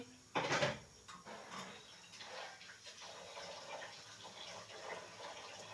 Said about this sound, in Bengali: জল দিয়ে চালটা ভিজিয়ে রেখে দিচ্ছি